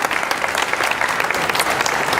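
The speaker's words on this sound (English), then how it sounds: "Give them a round of applause." A crowd at a public human rights celebration in Hartford, Connecticut claps for refugee volunteers, a thick, continuous burst of applause that stays loud and even from start to finish.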